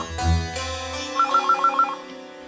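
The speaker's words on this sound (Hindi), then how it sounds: "बघ, वर्षाचा फोन असेल" A telephone rings with a short run of quick repeated electronic tones, loud and close, following a few louder bumps and tones at the start.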